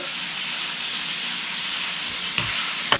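Chopped onion sizzles in a hot pan while Mexican rice is cooked, a loud, steady, close hiss of frying that holds throughout and is broken by two sharp clicks near the end.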